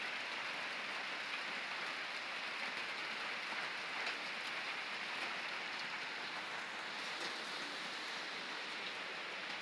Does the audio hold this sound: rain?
yes